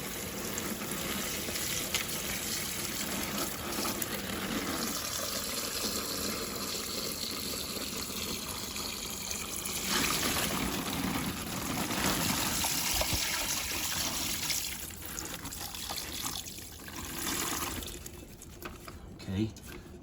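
Brine poured from a container over a whole turkey in a pot before smoking, a steady splashing trickle and gush running continuously with a person talking over it.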